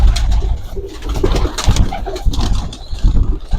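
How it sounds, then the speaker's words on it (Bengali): High-flyer pigeons at a crowded pigeon farm coo loudly and close up in overlapping, throaty rolls, with faint rustling and shuffling underneath. "দর্শক দেখতে পাচ্ছে চারিদিকে শুধু কবুতর"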